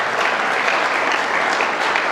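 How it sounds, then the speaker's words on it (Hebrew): An audience at a religious lecture gives continuous, loud, dense applause that holds steady throughout, with no speech over it. "מגיע למחיאות כפיים"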